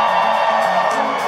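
A concert crowd at a show in Mexico screams and whoops back loudly on cue, a sustained roar of many voices that swells and holds for the whole moment.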